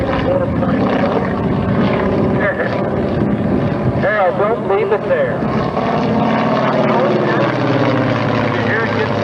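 Small aerobatic propeller airplane at a 1995 airshow drones steadily and loudly throughout, mixed with wind buffeting on the microphone, while people talk over it.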